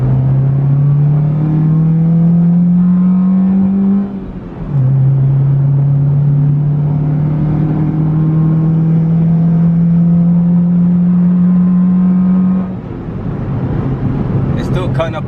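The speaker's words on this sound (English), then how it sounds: "we're gonna hit a little second gear pull" A 2000 Honda Civic EX engine pulls hard through second gear, its note rising steadily, dropping briefly at a shift, then climbing again with a slight roughness from a misfire, loud and close.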